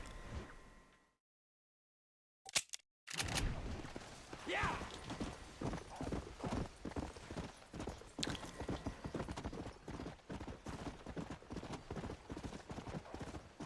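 Horse hooves clip-clopping at a gallop in the Western video game Red Dead Redemption, a steady rapid rhythm running close and loud after a brief silence, with a faint whinny among the footfalls.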